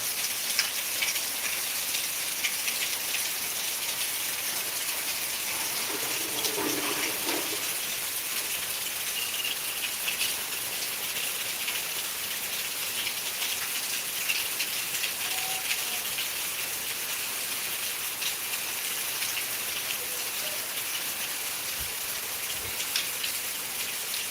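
Steady monsoon rain falls outdoors in Beed, India, a continuous even patter with a faint bird call now and then in the background.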